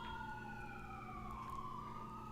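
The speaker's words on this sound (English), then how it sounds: "So apologize if you happen to hear the sirens." Emergency vehicle sirens wail outside in West Philadelphia, a steady wavering tone heard at a distance over low traffic rumble, with no one speaking.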